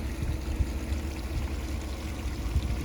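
Irrigation water flows steadily from punched holes in a 12-inch poly pipe fed by a big well, a continuous gushing rush with low burbling.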